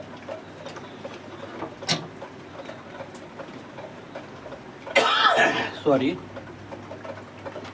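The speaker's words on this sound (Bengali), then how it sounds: "ঠান্ডা লেগে যাওয়ার জন্য কাশি হয়ে গেছে।" A person with a cold coughs in a home kitchen while frying soybean pakoras, two loud close coughing bursts about a second apart standing out from quiet room noise.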